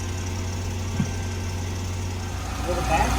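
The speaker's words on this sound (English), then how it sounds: "So now the car is idling" A car engine idles steadily nearby with a low, even rumble, during an emissions test measuring before and after the catalytic converter, with faint background activity over it.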